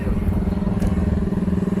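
A steady motorcycle engine idles and rumbles nearby on a street in Da Nang, Vietnam, with a low, even throb throughout.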